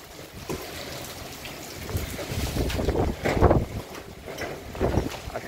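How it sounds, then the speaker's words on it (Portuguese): Strong gusting wind roars in Santana do Ipanema, Alagoas, during a heavy rainstorm as trees get battered, with broad rushing noise swelling in loud surges. "mas o vento continua."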